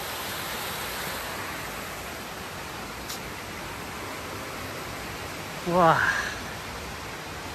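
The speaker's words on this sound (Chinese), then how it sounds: "那瀑布的水就是这边流下去的" A mountain waterfall pours down in a steady, even rush of water that fills the scene. A voice gives a brief exclamation near the end.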